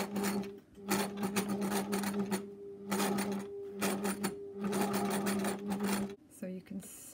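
A sewing machine stitches a patch over a buttonhole in fabric, running in fast, buzzing bursts of a second or so separated by short pauses, loud and close.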